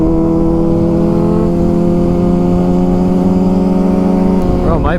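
Motorcycle engine running hot while riding, a loud, steady close-up drone that holds a constant pitch before rising and wavering near the end, with the rider talking over it.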